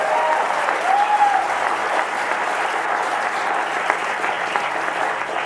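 Audience applause fills a theater at the Ivoryton Playhouse, a steady, dense clapping from a full house that holds at an even loudness throughout without pause or voices.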